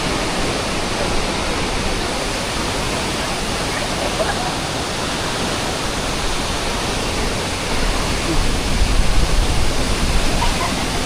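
Rushing water pours down Tat Siang Lue waterfall in Laos in a loud, steady roar that fills the whole clip and swells slightly near the end.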